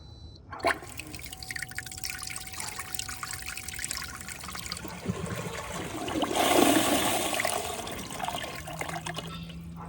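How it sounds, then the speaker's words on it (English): An SR Sun Rise electronic bidet toilet does a half flush: a sharp click, then water trickling and swirling that swells into a louder rushing surge before settling, heard up close with no talk. "This is what a half flush looks like."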